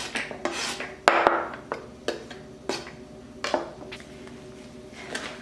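A yellow sweet pepper set down in a bowl during soup preparation, giving a few close knocks and light clinks with brief rubbing between them, and no talking.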